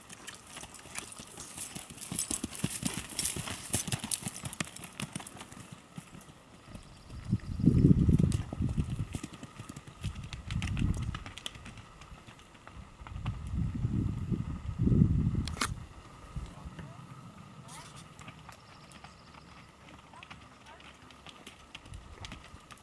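A Missouri Foxtrotter mare canters outdoors, her hooves thudding in rhythmic clip-clop bursts that swell as she passes nearer, with steady wind noise and a person talking over it.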